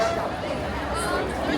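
A large crowd of visitors at Disneyland gives off a steady, diffuse hubbub of overlapping voices, with no single speaker standing out, at a constant level throughout.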